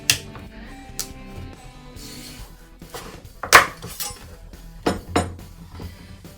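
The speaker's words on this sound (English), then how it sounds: "So we split it in two" A knife works through a butternut squash on a cutting board, giving a handful of sharp, separate knocks and thuds spaced irregularly, close and clear with no voices over them.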